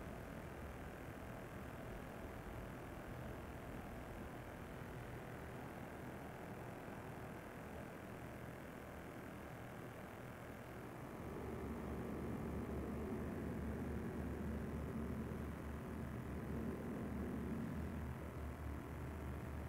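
A spaceship engine landing in the video game Star Citizen gives a steady low drone. Partway through it swells into a fuller, louder rumble that holds to the end, with no speech.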